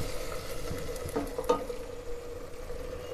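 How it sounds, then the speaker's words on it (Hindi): Masala spices with Kashmiri red chili fry in a pan for Punjabi-style aloo lobia, a soft steady sizzle with a couple of faint stirring scrapes near the middle. "थोड़ा इसको भूनने देंगे मसाले को।"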